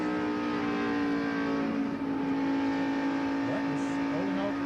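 Stock cars race around an oval track during a broadcast, engines droning in a steady blended roar with shifting pitch, a commentator talking over the noise.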